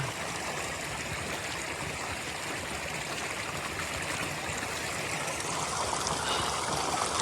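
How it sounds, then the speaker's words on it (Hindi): A clean mountain stream in a forest flows with a steady, broadband rushing and trickling wash. It is heard close and unbroken, with no voices. "तो ये बिल्कुल साफ सुथरा नाला"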